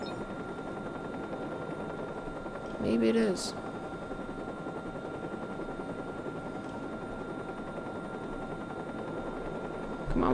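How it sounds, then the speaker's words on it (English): In the video game Watch Dogs, a helicopter's rotor drones steadily and loudly throughout a chase, with someone briefly talking over it and a short bright electronic blip near the middle. "the stupid helicopter is not going over there"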